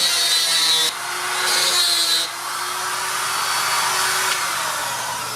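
A power drill bores holes in a knife handle, a loud steady whine that briefly eases and rises again between holes, close up with no talk.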